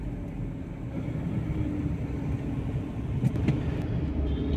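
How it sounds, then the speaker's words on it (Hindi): Road traffic in Delhi near a red-light intersection with electric buses, a steady low rumble of passing cars and engines that swells slightly toward the end, with a few faint higher clanks. "देखिए कितना ट्रैफिक है, काफ़ी ट्रैफिक है गाइस।"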